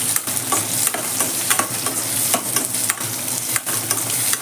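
Thinly sliced onion frying in hot oil with curry leaves in a pan, a steady close sizzle broken by scraping stirs, no voices.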